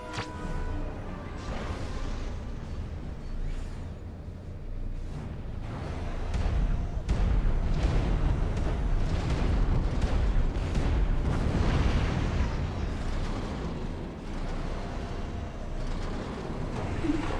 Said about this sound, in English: The enemy is attacking with bombers.